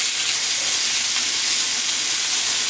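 Eggplant fries in hot oil as part of a Bengali-style fish curry, giving a loud, steady, unbroken sizzle with no talk.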